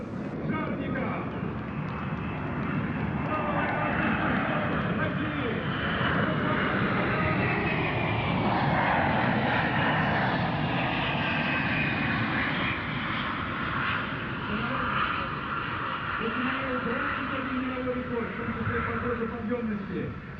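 Antonov An-124 Condor heavy cargo aircraft flying past at a Russian Air Force airshow, a loud sustained engine roar and rumble that swells and shifts in pitch throughout, with a commentator talking over it.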